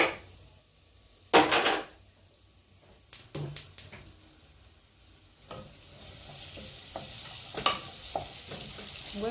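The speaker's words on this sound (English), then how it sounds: "I'm going to fry these onions here till they're brown." Onions fry in a pan with browned beef for matoke, a steady sizzle under several loud stirring scrapes and clanks, with no talk.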